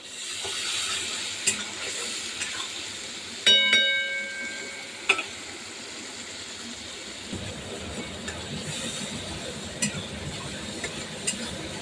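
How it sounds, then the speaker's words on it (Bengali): Spices fry in oil with salt and turmeric, giving a soft, steady sizzle with scattered clicks of stirring and a brief ringing tone partway through. "তেলের মধ্যে মশলা দিয়ে দিলাম, মশলাটা কষানো হোক।"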